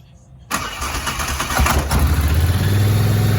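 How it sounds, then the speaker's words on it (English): A 2019 Polaris Highlifter 850 ATV engine cranks and catches after a short silence, then revs up with the throttle held, settling into a loud, steady rumble close by. "So when I turn it over, I have to give it gas for it to turn on, which is weird."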